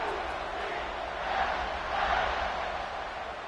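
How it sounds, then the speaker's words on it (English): A college football stadium crowd buzzes steadily after a touchdown, a distant, dense roar that swells twice and sits beneath the commentary. "this crowd is buzzing after that last score"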